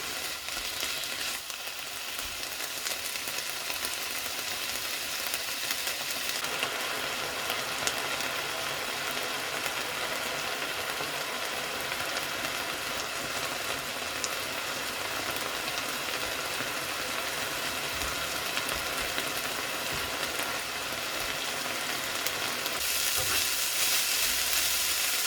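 Diced bacon fries in a pan for spaghetti carbonara, with a steady, close sizzle and popping that runs unbroken and evenly loud throughout.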